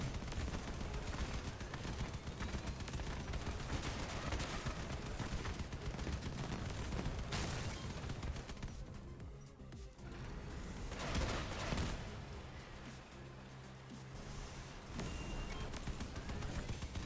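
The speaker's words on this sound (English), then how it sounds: "See, they start firing literally before the machine guns beneath them fire." Sustained machine-gun fire in the vehicle combat game Crossout, a dense continuous rattle of rapid shots lasting throughout, briefly thinning midway before resuming at full intensity.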